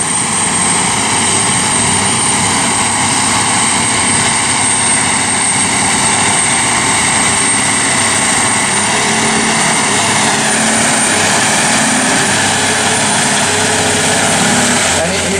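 A tractor pulls a Helidor Gigant 10 packer across a field at about 8 mph, producing a loud, continuous engine drone with a steady rumble and rattling from the implement.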